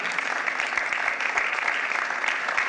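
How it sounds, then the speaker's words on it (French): Steady, dense applause from an audience in a hall during a New Year's greetings ceremony, continuous clapping close and loud with no pauses throughout. "vous pouvez applaudir Violaine Marigné"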